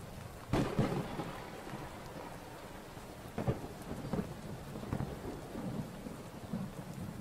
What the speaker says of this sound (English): looks like it's stormy. That's thunder, right?